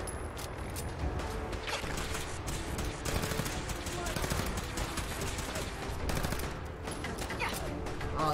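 Rapid, dense gunfire in Fallout 4 from a hard-recoiling weapon, a continuous crackling barrage heard close, with voices talking over it throughout.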